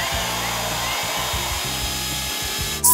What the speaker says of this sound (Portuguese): Aqui está a batedeira, Sue.